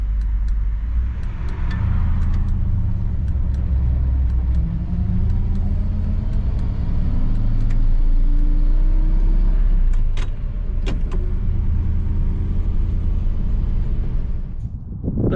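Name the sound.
1959 Chevrolet Bel Air 348 engine running on first drive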